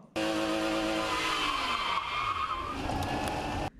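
Car drifting around a cone during a beginner drift exercise, with the engine revving and tires squealing and skidding loudly for several seconds, close, without talk.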